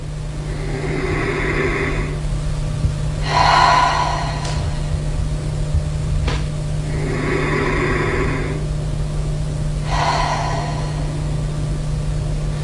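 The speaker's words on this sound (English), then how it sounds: "This is natural breathing." Natural breathing demonstrated in a vocal lesson: four slow, airy breaths spaced a few seconds apart, close and steady over a faint constant hum, with no talking.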